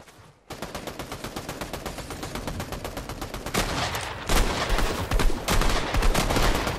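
Monarch pistol fire in a shooter video game: a rapid, evenly spaced string of loud shots that runs continuously, with heavier overlapping bursts of gunfire joining in toward the end.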